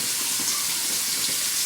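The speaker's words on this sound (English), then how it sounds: "put me a little warm water on my face," Warm water runs and splashes steadily onto hands and face at a sink, a close, continuous watery hiss with no talking.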